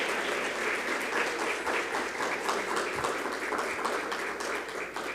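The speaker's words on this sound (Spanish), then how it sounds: "Airam Toribio y Patricia Yunen, a quienes recibimos también con un fuerte aplauso" Even, sustained applause from a forum audience welcoming panelists onto a stage, a soft, fairly distant wash of many hands clapping without pause.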